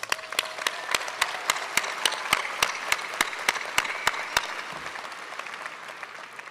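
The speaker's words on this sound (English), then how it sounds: "let's give them a round of applause" Applause at a university commencement ceremony, a steady wash of many hands clapping at moderate distance with sharp regular claps standing out, holding even before easing slightly near the end.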